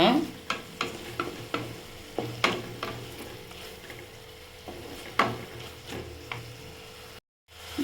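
Tomato and green chilli fry in a pan for kothu chapati, with a soft steady sizzle and repeated clicking scrapes of a spatula at an uneven pace. The sound cuts out briefly near the end.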